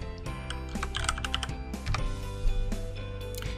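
Fingers type steadily on a computer keyboard while entering text into a spreadsheet, a dense run of close, quick key clicks with a few heavier strokes, no talking.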